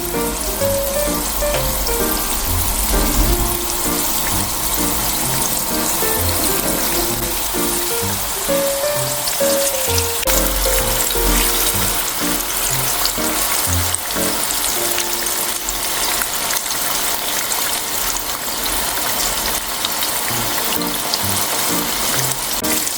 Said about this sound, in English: I'm gonna do 8 pieces at a time here because I'm just running out of space in the frying pan to fry it